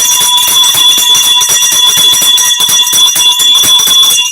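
A handbell rung by a talk-show host rattles loudly and continuously, a rapid, steady metallic clanging with bright ringing overtones filling the whole stretch without pause.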